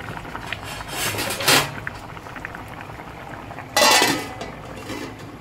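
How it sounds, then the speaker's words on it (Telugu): A plate set as a lid on a simmering cooking pot gives two clinking, scraping clatters of metal and ceramic, close and fairly loud, over a quiet background of bubbling. "చూడండి ప్లేట్ మూత వేసేసుకోవాలి"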